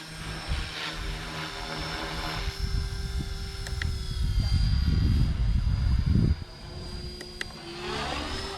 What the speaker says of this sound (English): I can't believe how quick this helicopter flips back over as long as you're working the buttons right